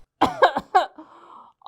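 Several harsh coughs close to the microphone, three quick bursts followed by a shaky exhaled trailing sound, from a person with chills and a cough in a nursing hospital setting.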